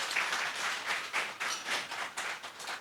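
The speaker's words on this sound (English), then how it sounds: "big hand of applause for each one of you to bring this energy" Applause from a seated audience at a brand-building talk session, fairly faint and distant, a steady wash of clapping with small swells that carries on through the whole stretch.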